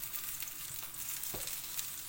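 Eggplant slices sizzle steadily in hot sunflower oil, a dense continuous crackle of frying with no voices.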